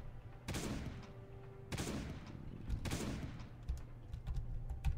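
Gunfire in the zombie survival game Last Day on Earth, three sharp, loud shot bursts spaced about a second apart, each with a short decaying tail, followed by fainter clicking.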